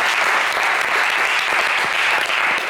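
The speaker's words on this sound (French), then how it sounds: "on applaudit Souleymane, s'il vous plaît" A studio audience at a game show claps steadily, a dense, loud wash of applause with no break.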